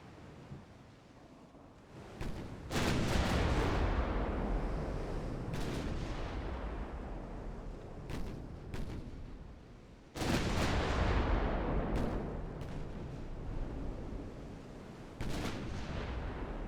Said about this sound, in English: Battleship Danton is now firing.